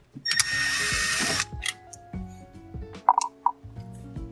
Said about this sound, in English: we're going to have one Phillips head right here, so we'll just be undoing that